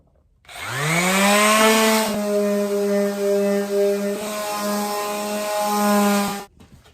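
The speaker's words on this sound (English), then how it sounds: "I'm just going to use this orbital sander" An orbital sander runs on a wooden pin display case fitted with plexiglass, a steady loud motor whine with a strong hum that starts abruptly, holds for about six seconds with slight load changes, then cuts off.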